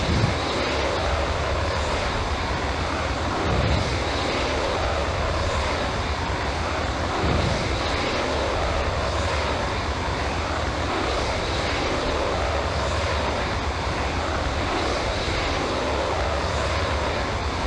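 An F-16A MLU jet engine roars during takeoff in the Falcon 4 Allied Force flight simulator, a steady loud whooshing drone that holds throughout without speech.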